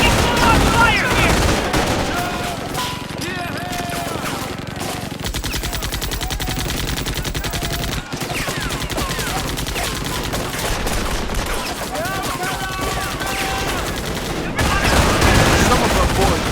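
Dense World War II gunfire from the Company of Heroes game, Vierville mission: loud, sustained volleys of rifle and machine-gun fire rattle throughout, with heavier bursts near the start and the end.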